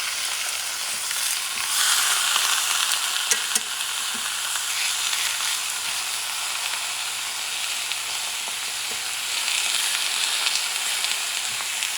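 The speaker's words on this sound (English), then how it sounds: "What you're going to do, you're going to add the steak." A large steak sears in a hot cast iron pan, giving a loud, steady frying sizzle with crackling spits that continues close up for the whole stretch, with no voices over it.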